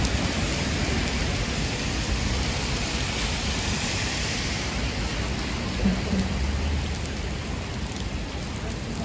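Heavy rain from Hurricane Elsa pours down at night in Manhattan, a dense, loud, unbroken hiss of rain on surfaces filling the whole stretch with no voices.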